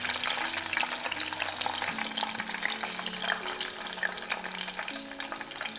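Egg rolls fry in hot oil in a deep fryer, making a steady dense sizzle and bubbling, close and continuous, with a low hum beneath.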